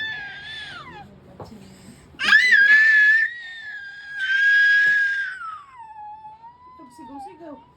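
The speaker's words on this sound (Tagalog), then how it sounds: "Sigaw." A baby lets out long, high-pitched screams and squeals, loud and close, rising and falling over several seconds, with soft adult murmuring in the quieter gaps.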